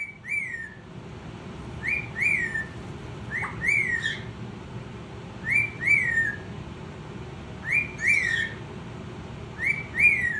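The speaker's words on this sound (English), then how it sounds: "do a little cat call whistle as well" Repeated two-note cockatiel whistles, rising then falling like a wolf whistle, sound several times at steady intervals over a low background hum, bright and fairly close.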